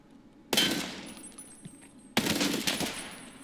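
Two loud, sharp bursts of gunfire in the shooter game Tarkov, a second apart, each ringing off with a metallic tail and echo in an otherwise quiet setting.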